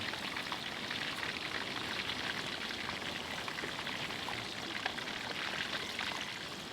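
Marinated prawns wrapped in pastry deep-fry in hot oil, a steady dense sizzle and crackle, close and even throughout with no talking.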